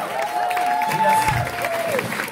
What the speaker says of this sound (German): Also mal ein großer Applaus